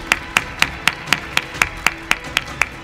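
A single person claiming at an awards gala: about a dozen sharp, evenly spaced claps, close and clear.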